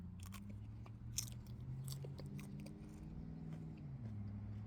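Someone bites into and chews a Jimmy Nardello pepper picked from a front-yard garden bed, giving a few crisp crunches and moist chewing over a steady low hum.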